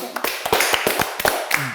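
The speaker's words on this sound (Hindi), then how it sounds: "तो तालियां होनी चाहिए।" Applause in a TV studio during a morning talk show: a short run of sharp, separate claps at a quick uneven rhythm, close and fairly loud, with few hands taking part.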